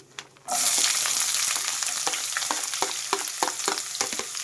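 Sliced onions drop into hot oil with lightly browned dal for a tempered leftover-rice dish, bursting into a loud, close, steady sizzle after a brief quiet start, with scattered scraping stir clicks throughout.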